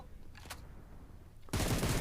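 Gunfire in the BGMI mobile battle-royale game: a short faint crack early on, then a loud, dense burst of rapid shots filling the last half-second, with no talking.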